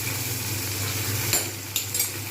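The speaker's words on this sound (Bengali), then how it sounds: "ভালো করে নাড়িয়ে নেবো" Bengali-style ghugni stirred in a pan, a soft sizzle with a low steady hum underneath and a few sharp utensil scrapes near the end.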